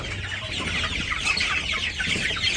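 Village chickens cluck softly and steadily at a farmyard feeding spot, several birds overlapping in a low, continuous chatter at moderate distance.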